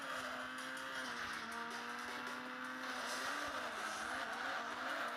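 A car drifting in a video game holds a steady, loud engine whine whose pitch wavers and bends throughout, with a hissing tyre-squeal texture over it and no talk.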